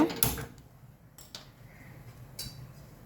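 A gas stove being switched on in a home kitchen gives a few quiet, sharp mechanical clicks and a creak, spaced about a second apart, over near silence.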